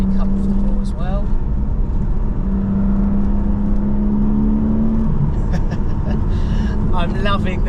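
A Porsche 718 GTS 4.0 engine drones steadily from inside the car while it is driven, with a low, even hum and road noise running under someone talking throughout.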